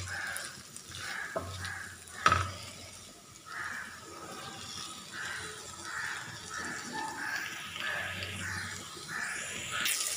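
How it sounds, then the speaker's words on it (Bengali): Chopped carrot and tomato frying in oil for vegetable soup noodles, a soft continuous sizzle with occasional stirring clinks, fairly faint, with crows cawing in the background. "গাজর ও টমেটো কুচি দেওয়ার পর আমি আবারও 1 মিনিট ভেজে নেব।"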